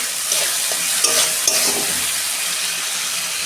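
Spice paste of ground cumin and tomato frying and being stirred in a pan for dahi katla fish curry, a steady close sizzle with a few brief scrapes, no talking.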